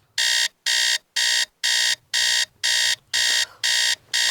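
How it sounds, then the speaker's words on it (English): An alarm clock rings in nine evenly spaced, loud electronic beeps, each about a third of a second long with short silent gaps, close and alone. "her alarm went off."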